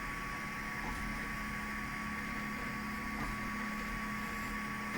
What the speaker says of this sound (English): now the printer's printing the second layer